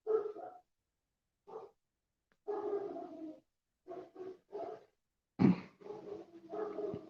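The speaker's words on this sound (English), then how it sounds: "Can you hear the dogs? We have dogs and roosters here." Dogs bark in scattered bursts, some single and some in quick pairs, at a moderate distance, with one sharper, louder bark near the end.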